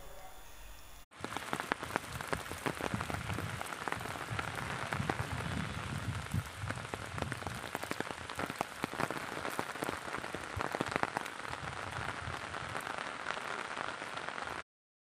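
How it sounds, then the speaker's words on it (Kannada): Heavy torrential rain pours in the Malnad region of Shivamogga, a dense loud continuous patter with sharp drops striking nearby surfaces, starting abruptly and running steadily until it cuts off. "ಶಿವಮೊಗ್ಗದ ಮಲೆನಾಡು ಭಾಗದಲ್ಲಿ ಧಾರಾಕಾರ ಮಳೆಯಾಗ್ತಾ ಇದ್ದು"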